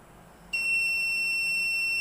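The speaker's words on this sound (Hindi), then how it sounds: "the buzzer is ringing" A Cretile delay module's timer runs out and its buzzer starts ringing, a steady, loud electronic beep with a sharp onset that holds unbroken to the end, heard alone with no talk.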